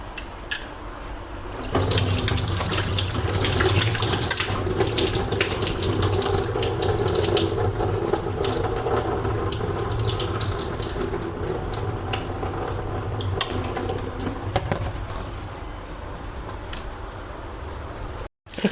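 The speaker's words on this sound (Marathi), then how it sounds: "आता हे पाणी ओतून घेते, परत पुन्हा दुसरं पाणी टाकायचे" Water streams from a tap into a vessel of poha (flattened rice) for rinsing, a steady loud splashing flow for most of the stretch, stopping abruptly near the end.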